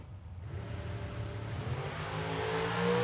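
Dragsters launch down the strip during a bracket drag race on a Halloween weekend, their engine roar swelling from a low rumble into a loud, sustained, rising drone.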